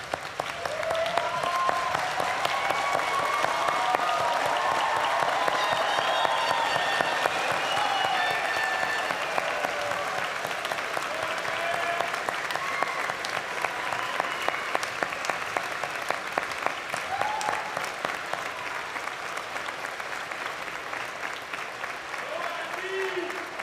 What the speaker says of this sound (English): I think this moment calls for a standing ovation